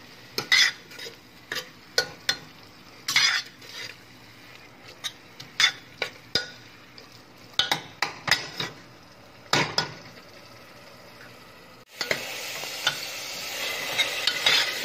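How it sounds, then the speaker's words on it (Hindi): Spinach stirred in a frying pan: a spoon scrapes and clinks against the pan in repeated, uneven strokes over a soft background, then a louder, continuous sizzle swells near the end. "पालक को थोड़ी देर भूनना है।"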